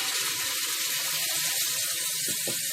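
Water runs steadily into a mixer jar in a home kitchen while a spicy soya chaap curry cooks, a continuous close splashing pour with no talk.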